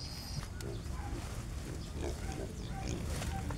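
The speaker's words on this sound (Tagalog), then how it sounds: "Ibigay na natin ang ating mga Madrid de Agua sa ating mga alagang biik." Piglets on a pig farm being fed Madre de Agua leaves, grunting and squealing in a busy, overlapping chorus with rustling and farm background noise throughout.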